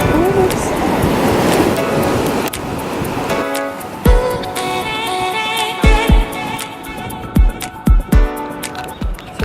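Waves and wind on a beach near Horseshoe Bay roar in a steady wash with gusty rumble close to the microphone, while people talk and sharp thumps punctuate the later part.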